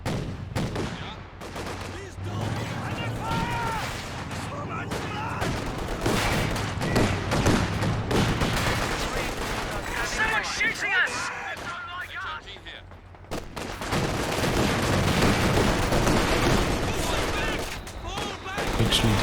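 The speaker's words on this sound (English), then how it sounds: "Not entirely sure what the heavy mortar's firing at there, but it's kind of a warning shot, right?" Heavy mortar and machine-gun fire in a Company of Heroes 2 battle: dense bursts of automatic gunfire and repeated thudding launches and impacts, loud and continuous, with a commentator talking over parts of it.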